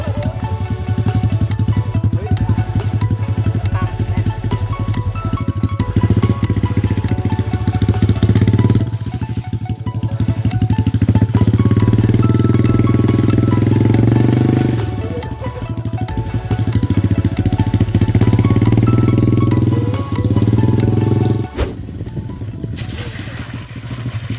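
A 125 cc open-style motorcycle engine runs steadily and loud throughout while ridden for the first time, its rough low drone rising and falling with throttle changes, with no talk over it.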